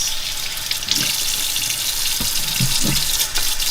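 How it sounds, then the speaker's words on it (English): Cold water runs from a kitchen tap into a sink in a steady, loud, close splashing stream, with a few low thumps and clunks mixed in and no talking. "Run your cold water."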